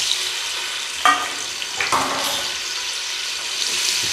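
Two chopped onions hit hot oil with a steady, bright sizzle and frying hiss, broken by a few short stirring scrapes. No one speaks.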